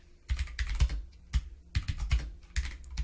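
Bursts of rapid typing on a computer keyboard while C++ conditional code is entered, coming in about four clusters of quick key clicks with brief pauses between them, close and clear with no talking.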